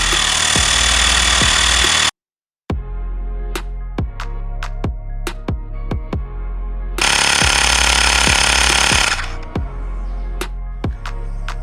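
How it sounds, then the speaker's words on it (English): A Mi portable air compressor inflates a car's front tyre with a loud, steady buzzing drone and rapid rhythmic pulsing, cut off by a brief gap and then resuming, close up. "It took almost 3 minutes to complete this front tire, fill the air in front tire within 3 minutes."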